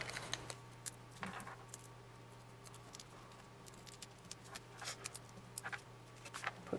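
Scissors snip foam dimensionals for a handmade card, small quiet cuts and rustling paper scattered close over a faint room hum, no talking.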